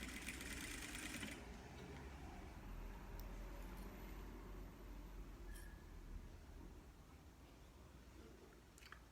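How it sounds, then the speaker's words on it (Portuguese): Sewing machine stitching a dish towel, running as a steady continuous whirring hum at a fast even pace, close and moderately loud, with a few faint clicks over it. "Vou costurar só até o limite do azul"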